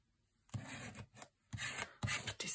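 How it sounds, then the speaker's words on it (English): A craft card is rubbed down in a few short, soft abrasive strokes, each a brief scratchy swipe separated by quiet pauses. "I'm just going to rub that down a bit"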